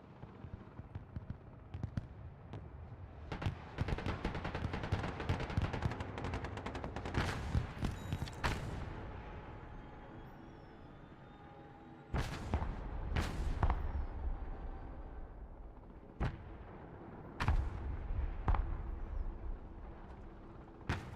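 Covering gunfire and artillery in the military strategy game Broken Arrow: dense, continuous rattling bursts and sharp booming blasts, loud and close, with short lulls between heavy volleys.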